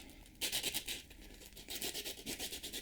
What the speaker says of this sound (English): I like these sanding sponges, have to rough up the surfaces